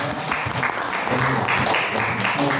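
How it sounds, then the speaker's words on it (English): Applause in an international business class for export and import, a room of students clapping steadily and fairly close, with some voices mixed in beneath the clapping. "applause for this"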